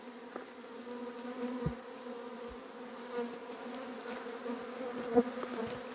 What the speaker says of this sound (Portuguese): as abelhas aqui não são agressivas de jeito nenhum.